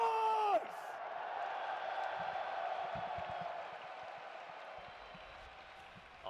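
A crowd at an EVO 2023 top-six watch party cheers and claps at a distance, forming a faint, steady wash of applause and scattered whoops that slowly fades.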